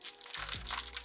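Plastic wrap from a Dollar Tree bag is pulled out in a steady run of crinkly rustling and crackling, close and fairly quiet, with a low rumbling thump partway through.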